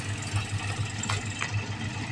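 Low, steady tractor engine idling during a groundnut harvest, with a faint rhythmic throb, moderately distant, no voices heard.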